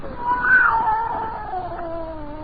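A scrawny cat gives a drawn-out, wavering yowl that rises and then slowly falls, loud and close, alone for about two and a half seconds in a dramatized story.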